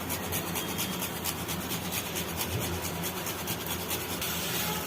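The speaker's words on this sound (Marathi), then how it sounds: "आता त्याच्यामध्ये आपण जायफळ जे आहे ते किसून टाकणार आहे." Nutmeg grated over a rasp into a cooked modak filling for rice-flour modak, a steady dry scraping that runs continuously and fairly quietly, close up, with no talking.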